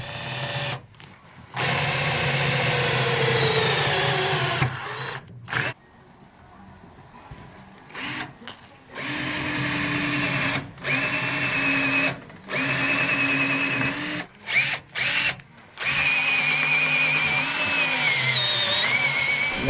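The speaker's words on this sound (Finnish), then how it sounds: "niin ne piti porata vähän alkuun tonne syvemmälle niitä ruuveja." A power drill whirs in repeated bursts of a few seconds each, loud and close, with short pauses between runs as it drives screws into a wooden van floor.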